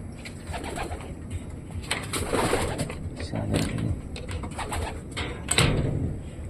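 Pigeons coo repeatedly amid a busy outdoor soundscape, with scattered chirps, occasional wing flaps and steady background noise throughout, at moderate distance.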